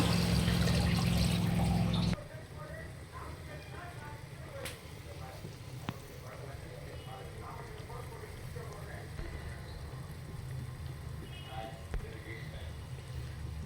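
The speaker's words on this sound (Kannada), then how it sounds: "ಇದ್ರ ಜೊತೆಗೆ ಇವಾಗ ನಾವು ನೀರು ಹಾಕ್ಕೊಳ್ಳೋಣ" Water pours into a pot of jackfruit biriyani, a brief loud gush followed by quieter trickling and faint clinks for several seconds.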